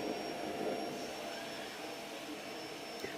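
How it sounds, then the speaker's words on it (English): A vacuum cleaner runs somewhere nearby as a steady, faint whooshing hum with a thin whine on top, holding an even level throughout. "Why do I want to vacuum now?"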